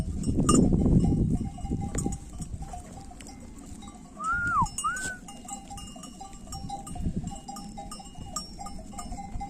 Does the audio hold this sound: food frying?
no